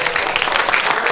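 A brief burst of audience applause at a school language competition, dense clapping from many hands, loud and close throughout.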